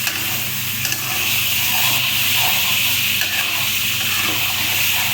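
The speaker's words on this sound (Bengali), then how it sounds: "এখন ভালো করে ভাজতে ভালো করে ভাজতে" Food fries in a pan on the stove with salt added, giving a steady, close sizzling hiss that runs the whole way through with occasional stirring scrapes.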